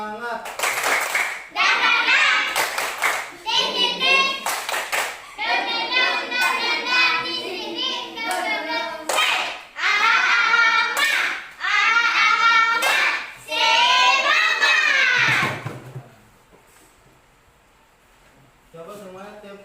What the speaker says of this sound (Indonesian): Coba kita tepuk semangat dulu. Tepuk semangat.